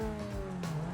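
A Corvette-like supercar engine from a GTA 5 game drones steadily and loud, with a faint tire screech mixed in, for a short stretch without speech.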